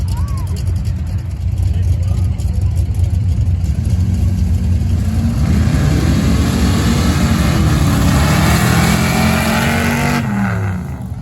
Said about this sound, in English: 2 square body Chevys ought to be a pretty good race.